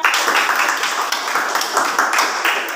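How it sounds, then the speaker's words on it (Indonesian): Junior high school students clap together in a classroom, a brisk, busy patter of many hands close to the microphone, steady for a few seconds. "Nah, tepuk tangan semuanya."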